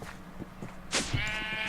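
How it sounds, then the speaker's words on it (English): A baby sheep in a Minecraft-style video game gives short bleats, close and clear, over a faint steady background. "It's another baby sheep."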